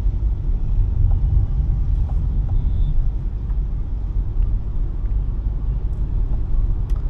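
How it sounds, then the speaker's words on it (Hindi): Inside a 2023 MG Hector creeping through traffic jam as it brakes automatically, a steady low road and engine rumble fills the cabin, with faint clicks over it. "ये कार खुद से ब्रेक मार रही है"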